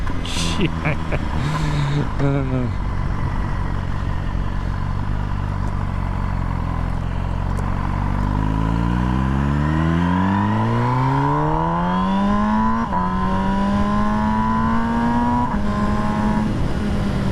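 An MV Agusta Brutale 1000 RS motorcycle engine revs up and down, its pitch climbing in a long smooth sweep, then holding high and loud close by.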